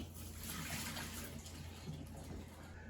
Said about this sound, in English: We're going to empty this water